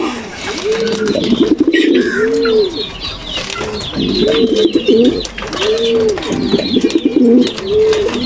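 Pigeons kept by a pigeon raiser coo repeatedly and loudly up close, in rolling, throaty phrases with short pauses between them, along with some faint rustling and chirps.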